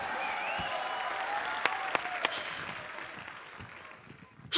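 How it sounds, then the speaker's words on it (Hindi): Audience applause at a comedy talk show, a sustained round of clapping from a studio crowd that gradually thins and fades out, with a few sharper individual claps standing out. "मैं ताली का नेटवर्क चेक कर रहा था कि आ रही आवाज कि नहीं आ रही"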